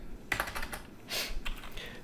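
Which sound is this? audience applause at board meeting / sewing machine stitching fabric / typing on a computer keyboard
typing on a computer keyboard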